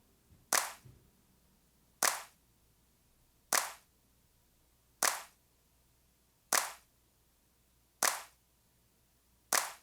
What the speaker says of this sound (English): we're gonna listen to the claps without compression